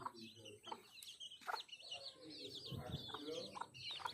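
Chickens in an Odia village cluck and call repeatedly at close range, a busy mix of short bird sounds with occasional other fowl and faint background talk.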